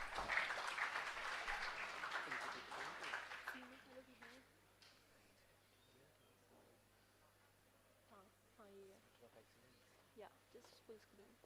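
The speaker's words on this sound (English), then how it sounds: "give a round of applause for sir" Audience applause at a college orientation event, a few seconds of fairly loud clapping that quickly dies away, leaving a quiet hall with faint murmurs and a voice beginning to speak.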